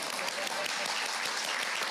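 Dense, steady crowd applause fills a preservation awards ceremony hall, many hands clapping at once in an even, continuous roar.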